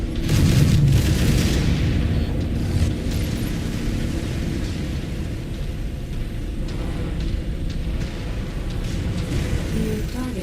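Incoming missiles exploding in a video game: a heavy booming impact at the start, then a sustained roaring rumble of blasts and debris that slowly settles to a steady loud din, with no voices.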